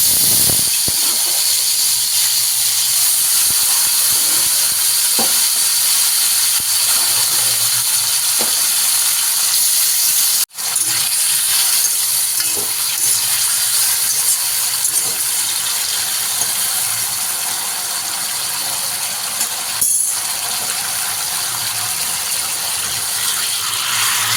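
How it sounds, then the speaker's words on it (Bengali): Home-grown bay leaves and two green chillies fry in hot oil with a loud, continuous crackling sizzle that runs throughout, broken by a brief dropout midway and scattered sharp pops. "এবার আমি তেলে দিয়ে দিলাম আমার গাছের তেজপাতা আর আমার গাছের দুটো লঙ্কা"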